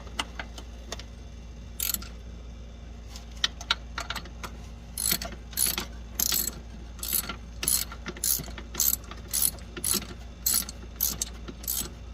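A ratchet tightening throttle body bolts on a 1998 Ford F150 with a 4.2L engine: quiet, regular bursts of clicking, several short ratcheting strokes in a steady rhythm, close and alone.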